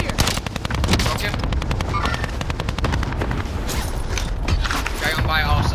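Rapid automatic gunfire from Call of Duty Warzone rattles in dense bursts throughout, with mechanical clatter and a voice talking over the shooting.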